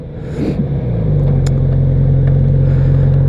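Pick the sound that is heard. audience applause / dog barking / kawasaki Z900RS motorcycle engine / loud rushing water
kawasaki Z900RS motorcycle engine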